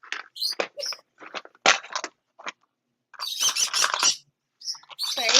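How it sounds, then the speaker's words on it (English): Pet birds kept in a room, loud close chirps and tweets in rapid bursts with short silent gaps, growing busier toward the end. "Well, I have birds in my room"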